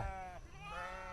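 Sheep bleating at a weekly livestock market (santhe) in Mudhol, a single drawn-out, wavering bleat heard close and fairly loud over a busy crowd hum.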